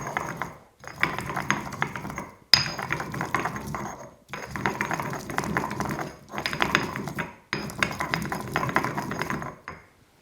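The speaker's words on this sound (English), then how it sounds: "use that mortar and pestle and really just kind of grind that into a paste" A mortar and pestle grind Calabrian chili into a paste in repeated close, gritty scraping strokes with light clinks, about five bursts separated by short pauses.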